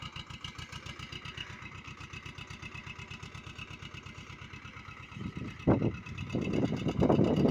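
A steady, rhythmic tractor engine chugs nearby throughout while harrowing a farm field, joined near the end by louder bursts of broadband noise and rumble.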